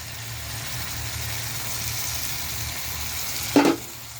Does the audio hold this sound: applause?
no